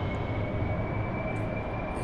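An AV-8B Harrier jet engine in the DCS World flight simulator roars steadily as it accelerates for takeoff from the LHA-1 Tarawa, a dense, continuous rumble with a thin sustained whine above it.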